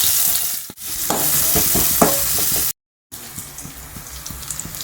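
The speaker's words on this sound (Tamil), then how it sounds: "நறுக்கி வச்ச வெங்காயத்தை போட்டு வதக்கிக்க போகிறோம்" Onions crackle and sizzle in hot oil with popped mustard seeds and stirring clatter nearby; the sound cuts out briefly, then resumes quieter.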